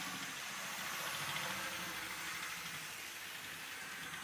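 A small OO gauge Metro Cammell lightweight DMU model runs in reverse, its motor giving a continuous close-up whirring hiss with a faint rhythmic rattle of wheels on track, steady throughout with no voices.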